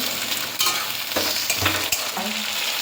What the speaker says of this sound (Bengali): টমেটোটা একটু ভাজা ভাজা হোক